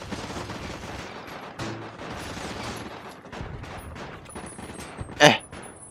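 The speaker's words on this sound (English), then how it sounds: "Okay, they start shooting." Enemy gunfire in the Fallout: New Vegas video game crackles in dense, continuous volleys throughout, with one louder sharp burst near the end.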